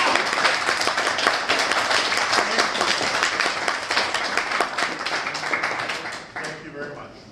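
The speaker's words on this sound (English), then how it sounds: "Go ahead and clap." An audience at a fall safety training session on protective equipment claps in a dense, sustained burst that thins and fades away near the end.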